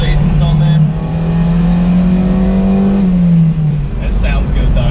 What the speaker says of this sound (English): It sounds good though. Stock exhaust,